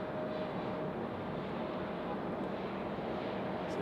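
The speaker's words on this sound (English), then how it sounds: "We got an American 737 making their way out." An American Airlines Boeing 737 taxis out at Raleigh-Durham airport, a steady, moderately faint broadband jet rumble with a thin constant whine, continuous and unchanging throughout with no voices.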